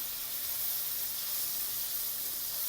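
A chili, garlic and ginger paste fries in hot oil with a steady, bright sizzling hiss that holds evenly throughout, close and unbroken, with no voices.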